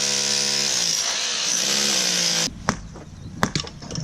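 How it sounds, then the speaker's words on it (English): Chipping hammer breaking up a concrete foundation to free anchor bolts, a steady loud hammering drone for a couple of seconds, then cut off, followed by scattered sharp knocks and chunks of concrete breaking loose nearby. "we're just going to chip it this way and get it out of there and break it loose"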